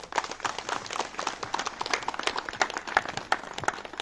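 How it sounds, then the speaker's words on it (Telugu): Audience applause welcoming a speaker at a rubber-farming meeting, a dense patter of many hands clapping, moderately distant and steady for several seconds. "ఆయన్ని చప్పట్లతో మనం ఆహ్వానించడం"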